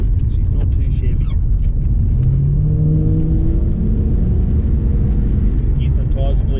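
Holden Commodore engine revving, a deep, loud, near rumble with a rising tone that climbs and falls over several seconds, while people talk over it.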